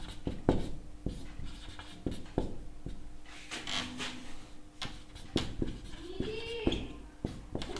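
Chalk or marker scratching across a board while maths working is written out, short strokes and taps in an irregular rhythm, close and moderately loud, with brief bits of voice in between.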